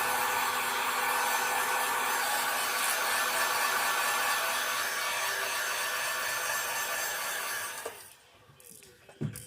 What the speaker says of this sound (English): I'll dry it off just a little.